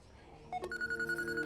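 A telephone starts up with a short tone blip, then a steady electronic ring tone sounds, fairly clear and close.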